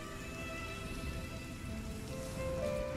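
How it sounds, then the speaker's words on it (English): Rain falling in the video game Rime, a soft, steady hiss of drops on surfaces holding at an even, fairly quiet level throughout with no talk. "Oh, you don't like the rain, do you, buddy?"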